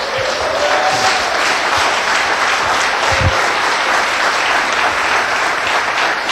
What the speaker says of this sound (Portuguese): Essas palmas eu quero que seja para a honra e glória do nome do Senhor Jesus pela vida da Elisa